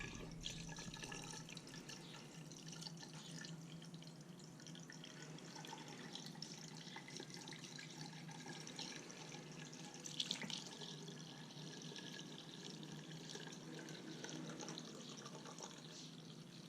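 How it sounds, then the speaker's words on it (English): Coolant pours steadily through a funnel into the radiator of a Kawasaki Ninja motorcycle, a continuous close trickle and gurgle of liquid that runs unbroken throughout with no talking. "slowly pour your coolant into the radiator"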